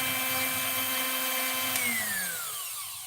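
A power drill whines steadily at high speed, then releases and winds down, its pitch sliding lower as it spins to a stop.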